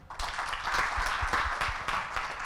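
A crowd claps during a live-streamed 2020 student orientation event at IAIN Ponorogo's faculty of Ushuluddin, Adab and Dakwah, giving a sustained round of applause that swells and stays fairly even for a couple of seconds without speech.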